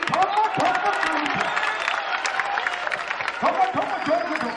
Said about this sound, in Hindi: ठोको ताली, ठोको ठोको ताली